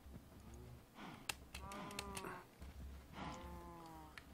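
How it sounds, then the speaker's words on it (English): Cow mooing in the Minecraft video game, two drawn-out low moos a couple of seconds apart, fairly faint, with light clicks like keyboard typing in between. "there's a cow walking around out here"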